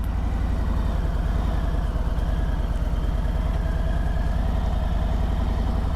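A motorcycle engine idles steadily at low revs with a deep, even rhythmic thrum as the clutch is eased out into the friction zone; loud, close and continuous, with no voices.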